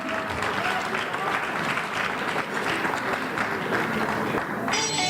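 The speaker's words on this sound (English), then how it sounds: "How about a round of applause for those 25 years and next 25 years?" An audience at an Indo-American community federation unity dinner claps in a sustained, dense round of applause that holds steady and loud for the whole stretch.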